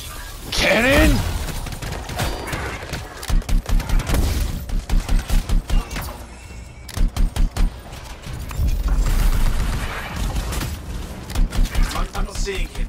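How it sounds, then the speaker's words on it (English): Rapid bursts of heavy cannon fire in a video game boom repeatedly in clusters, loud and close, interleaved with voices talking over the battle noise. "Cannon!"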